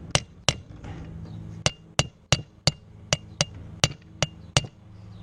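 Hammer striking a bearing to seat it in an engine, a run of about a dozen sharp metallic taps, sparse at first and then quicker and evenly paced, close and crisp over a faint hum.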